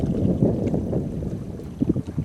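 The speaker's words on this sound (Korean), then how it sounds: "이렇게 바람이 불어도" Wind blows steadily across a fishing boat on open water, a low, rough rushing noise buffeting the microphone with a few stronger gusts near the end.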